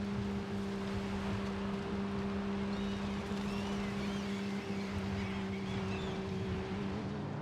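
A car driving along a beach in the video game Forza Horizon 5: a steady, moderately loud engine hum with sustained tonal whine and wind-like noise that barely varies throughout.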